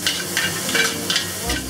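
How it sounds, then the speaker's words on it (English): Ginger, garlic and pepper stir-fried for shrimp sauce fried rice give off a steady close sizzle, broken by rhythmic scraping of the spatula against the pan. "We'll stir this for about 30 seconds."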